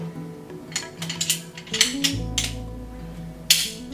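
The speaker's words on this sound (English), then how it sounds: "Let's put the bolt back in." Bolt of a benchrest rifle fitted with an adjustable Kelbly trigger hanger slid back into the action, a quiet run of metallic clicks, slides and clinks over a few seconds, close up with no speech.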